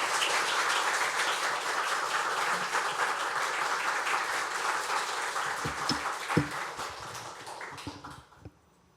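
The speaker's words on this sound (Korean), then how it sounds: "우리 박수하도록 하겠습니다." A church congregation at a Sunday service applauds a visiting pastor with dense, steady clapping that fills the room for most of the stretch, then thins to a few scattered claps and fades out at the end.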